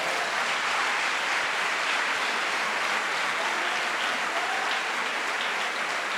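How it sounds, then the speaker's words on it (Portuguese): A church congregation claps steadily in a sustained, dense round of applause at a service, loud and continuous throughout with no voices standing out. "Então vamos dar uma salva de palmas para Jesus."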